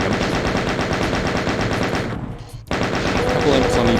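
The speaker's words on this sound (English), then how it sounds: "so it's a good idea to use the chain gun" The chain gun in Doom II, on the map Circle of Death, fires in a rapid, steady rattle of loud shots. It breaks off for half a second, then resumes its continuous burst.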